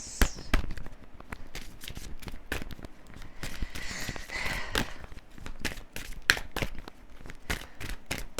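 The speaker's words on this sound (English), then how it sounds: "let's pull some more cards." Tarot cards are shuffled and pulled, giving a run of soft papery slaps, flicks and rustles in quick irregular bursts, close and quiet, with no talking.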